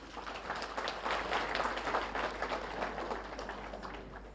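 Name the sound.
audience applause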